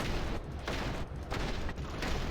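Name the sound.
rifle hip fire gunshots, Va'ruun Inflictor in video game Starfield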